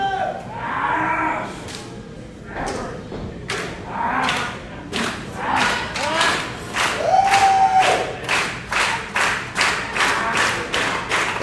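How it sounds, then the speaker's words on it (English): A wrestling crowd at an independent show, The Kumite, roars and then breaks into loud rhythmic clapping in quick, even beats, with mixed shouts and thuds, growing steadier toward the end. "The crowd coming to life here."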